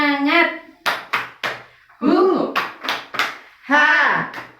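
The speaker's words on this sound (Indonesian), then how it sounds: "yuk kita tepuk semangat dulu" A group performs the tepuk semangat spirit clap: sharp rhythmic hand claps in quick patterned bursts, alternating with loud chanted voices of the participants.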